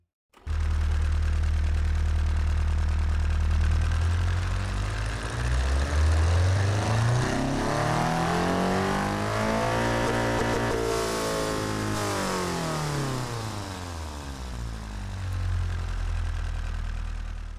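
A loud video game car engine in Automation, with a raised cam profile, revs high to 7,000 RPM and holds, pitch rising and falling in long sweeps with a strong, buzzy tone and no talking.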